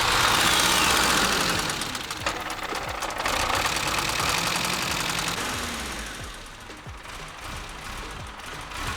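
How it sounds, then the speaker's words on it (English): A high-mileage 1987 BMW E30 engine idles roughly and unevenly, with a loud, knocking, uneven rumble that eases slightly as it settles, and no voices. "So we're gonna let it idle a little bit"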